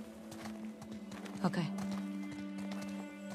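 Horse hooves clip-clopping in the video game The Last of Us Part II, a steady rhythmic stream of hoof beats under a constant hum, with a brief spoken word.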